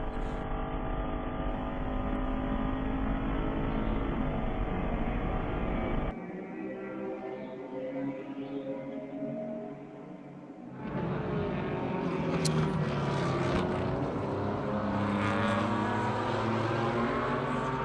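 A BMW race car's engine roars at Circuit of the Americas during an endurance race, loud and sustained with a drop in pitch partway through as it shifts or passes, then climbs back to a strong, steady howl.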